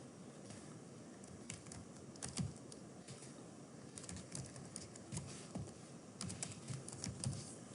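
Keys clatter on a computer keyboard in quick, uneven bursts with short pauses. The typing sounds close and fairly soft against a quiet room hiss, with no talking.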